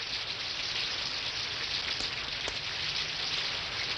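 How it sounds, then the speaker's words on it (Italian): Steady rain falls with a dense, even hiss and soft scattered drops throughout, no voices, with a couple of faint sharper taps partway through. "Dai, che piove"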